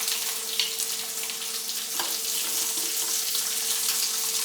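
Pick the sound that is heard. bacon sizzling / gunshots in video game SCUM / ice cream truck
bacon sizzling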